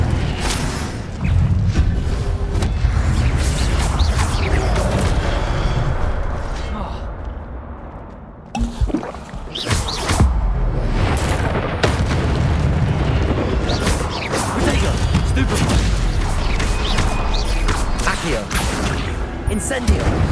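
Fire spell explosions in Hogwarts Legacy, a dense, continuous barrage of booming blasts and rumbling bursts that dips briefly midway, with speech mixed into the loud combat noise.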